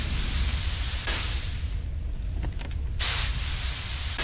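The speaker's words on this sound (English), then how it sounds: "LB to equip extinguisher." A fire extinguisher sprays in the game GYLT: a steady broadband hiss that fills most of the clip, briefly dips to a softer, wavering spray in the middle, then returns full and constant to the end.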